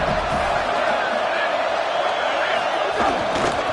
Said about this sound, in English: We'll see if they're able to come together against this very hostile crowd.